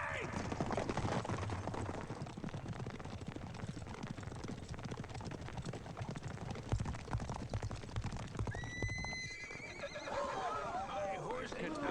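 A horse whinnies loudly over a rapid, continuous drumming of hooves at a gallop, with a shrill high neigh near the end, in an animated film's dub.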